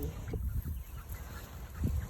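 Chickens in a backyard coop cluck and squawk in a busy, overlapping jumble, near and moderately loud with steady background noise.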